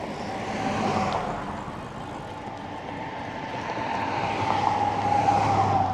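A Euphree Solar Sparrow belt-drive electric commuter bike being ridden, giving a quiet, steady whoosh of wind and tire roll with a faint motor whine rising slightly toward the end, no voices.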